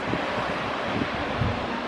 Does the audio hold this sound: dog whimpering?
no